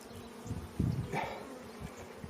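Honey bees buzzing around an opened hive during a frame inspection, a steady low drone with a few louder passes close by.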